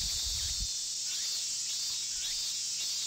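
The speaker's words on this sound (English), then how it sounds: "The deafening silence was broken only by the cries of the cicadas." A steady, high buzzing chorus of cicadas from the visual novel game Chrono Clock drones on at an even level throughout, joined by a brief low thump at the start.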